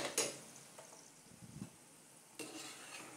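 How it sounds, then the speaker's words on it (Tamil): Food frying in a pan is stirred with a few scraping strokes against the metal over a soft sizzle, with quieter pauses between the bursts of stirring. "ஒரு பக்கம் நல்லா வெந்ததும் இது மாதிரி நல்லா கிளறி விட்டுக்கோங்க"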